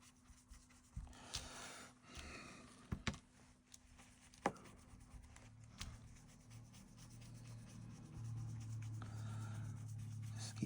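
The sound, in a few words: brush blending distress oxide ink over a stencil on card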